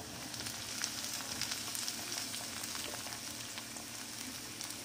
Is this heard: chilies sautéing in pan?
yes